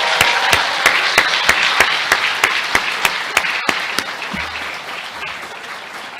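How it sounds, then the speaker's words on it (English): At a pharmacy white coat ceremony, an audience applauds the class of 2026, a loud wash of clapping punctuated by a steady, rhythmic run of sharp individual claps that gradually fade. "Let's give them a round of applause."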